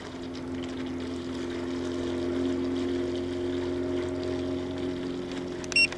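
A D18B GPS bait boat motors steadily across open water, its small propeller drone holding a constant whine throughout, with no voices over it.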